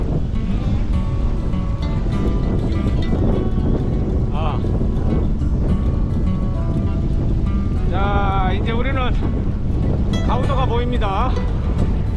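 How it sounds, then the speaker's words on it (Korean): Strong wind gusts across Gangjin Bay near Gaudo island, roaring steadily and loudly into the microphone with a surf-like rush, while a voice briefly cuts through now and then. "바람이 엄청 많이 부네요 아 여기는 볼 수가 있는데 아이고 바람이 엄청 불어"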